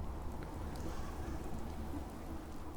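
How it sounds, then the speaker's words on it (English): Steady rain falls in the wasteland of Fallout 4, running with a Pilgrim: Dread the Commonwealth mod, as a continuous broadband hiss and patter that stays even throughout with no talking. "Just straight up rain."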